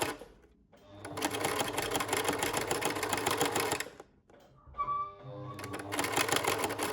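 A sewing machine running a zigzag stitch over clothesline rope for an oval rug, its rapid close clatter running in bursts with short pauses between them, alone without talking.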